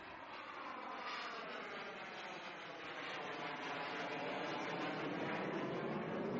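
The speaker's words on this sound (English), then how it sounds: "This is an F-5 demonstrating its ability to use a very secondary type runway." A jet engine roars steadily as an F-5 supersonic light fighter operates on a rough, secondary-type runway, a continuous loud whine and rumble with a slowly shifting pitch.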